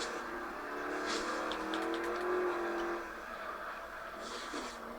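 Car engine and tyres in a racing video game during a drift, a steady mid-loud whine that rises and slides in pitch before easing off, no talking over it.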